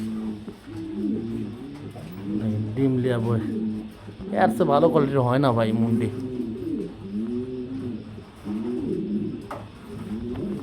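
Lahori pigeons coo in low, rolling, repeated calls at close range, swelling into a louder burst of cooing midway, with someone talking over them throughout.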